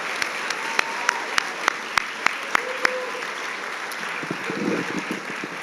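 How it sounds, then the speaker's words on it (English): Audience applause at a guide and service dog graduation ceremony for class 426: a string of sharp, evenly spaced claps rings out, then loosens into a softer, scattered crowd murmur toward the end. "let's give one more big round of applause for class number"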